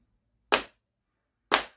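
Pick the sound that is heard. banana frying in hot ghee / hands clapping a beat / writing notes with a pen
hands clapping a beat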